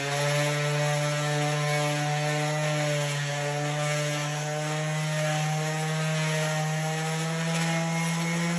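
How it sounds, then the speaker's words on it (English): Orbital palm sander fitted with an SPP pad burnishing an oiled hardwood floor, a loud steady electric motor whine with a constant buzzing hum throughout, close up with no talking. "take an SPP pad, put it on a palm sander, because it's orbital"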